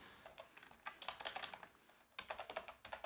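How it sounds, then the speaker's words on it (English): Close, quiet typing on a computer keyboard, with quick irregular keystrokes in short runs, a brief pause, then another flurry, all without voices. "And just go ahead and just type this in"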